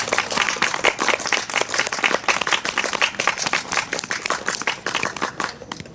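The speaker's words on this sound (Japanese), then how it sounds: "おー、割と長めの拍手、嬉しい限りじゃの" Long, steady applause from a live crowd at a Nagoya Omotenashi Busho-tai samurai troupe stage show, dense clapping filling the whole stretch before easing slightly at the end.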